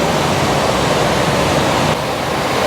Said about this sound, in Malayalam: വെള്ളച്ചാട്ടം